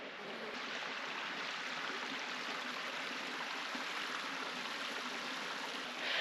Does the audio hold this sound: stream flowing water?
yes